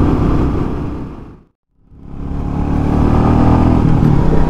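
A 2021 Royal Enfield Meteor 350 motorcycle is ridden through corners, its engine note and wind rumble steady and loud, then cutting out briefly before swelling back.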